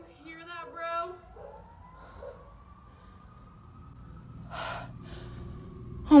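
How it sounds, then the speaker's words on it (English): A faint, distant emergency siren wails outdoors as one long rising and then steady tone. Close gasps and heavy breathing sound over it, with a louder noise at the very end. "As soon as she steps out, loud sirens begin to blare in the distance."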